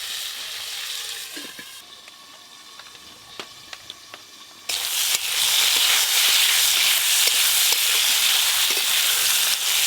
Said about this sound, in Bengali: কাঁচা টমেটোর কিন্তু একটা গন্ধ ছাড়ে, তাই চাপা দিয়ে একটু ভালো করে ভাজতে হবে।